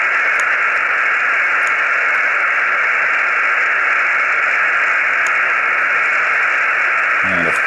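Steady hiss of static and radio signals from an EZCAP SDR receiver hooked to an outdoor antenna, a continuous loud band of noise with faint intermittent blips, ending in a brief low thump.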